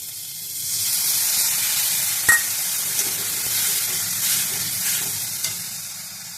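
Onion and prawns frying in a pan as a spice-water mix of ginger, turmeric, cumin and chilli powder hits the oil, giving a loud steamy hiss and sizzle with a sharp knock and light stirring.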